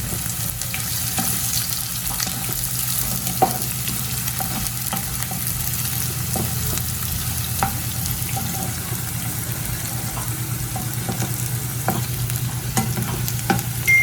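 Onion with spring onion base frying in a pan for restaurant-style egg fried rice, a continuous sizzle with repeated scraping stirs and clinks, some running water in the background, no talking.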